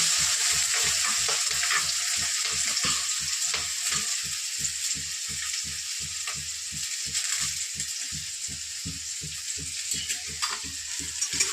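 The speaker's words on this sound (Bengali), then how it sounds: "তেল গরম হয়ে গেছে, তেলের মধ্যে দিয়ে দিতে হবে" Chopped capsicum, chili and carrot frying in hot oil make a steady, close hiss, broken by a fast, regular scraping rhythm of stirring throughout.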